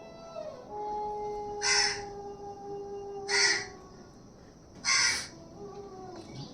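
A crow gives three loud, harsh caws spaced a couple of seconds apart over a quiet outdoor background with a faint steady tone and no talking.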